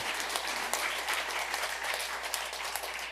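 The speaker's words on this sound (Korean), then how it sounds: "우리 박수 한번 칠까요?" Church congregation clapping together during a Korean worship service, giving a steady, even wash of applause from a sizeable room that holds at one level throughout.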